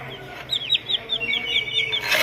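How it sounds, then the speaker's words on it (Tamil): A baby chick peeps in a quick run of high, thin chirps, some rising and some falling, heard close and fairly clear against a quiet background. "இந்த கோழி குஞ்சு பாருங்களா"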